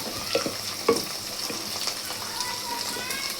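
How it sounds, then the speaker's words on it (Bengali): Spice paste with cumin paste frying in a pan for a pangas fish curry, giving a steady close sizzle broken by a few sharper stirring scrapes, with no voices. "এখন ভালো করে মশলাটাকে কষিয়ে নেব।"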